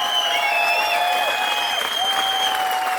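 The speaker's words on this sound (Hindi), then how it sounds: "हाथ ऊपर खड़े करके बजा सकते हो" A crowd at a business training seminar claps with hands raised, a steady wash of clapping under sustained high electronic tones that waver and slide.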